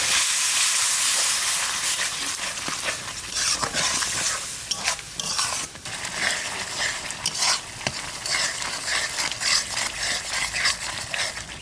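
Masala of Kashmiri chili powder and tomato puree frying in hot oil while being stirred, a steady close sizzle with scraping spoon strokes throughout, no talk.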